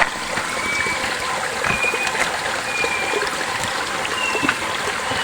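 Water trickles and babbles steadily in a small stream close by, with faint high birdlike whistles repeating now and then in the background.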